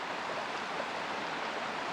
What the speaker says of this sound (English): part of the waterfall